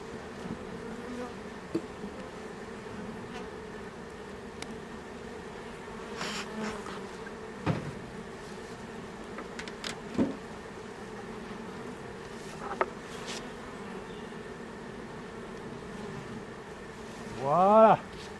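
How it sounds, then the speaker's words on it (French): Honeybees buzz at a hive fitted with a bee escape board during preparation for a chestnut honey harvest: a continuous, close, droning hum with a few brief knocks and a louder buzzing swell near the end. "Les abeilles vont rentrer par ici."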